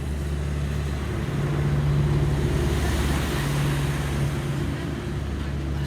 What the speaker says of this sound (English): I'm gonna wait till this truck go by.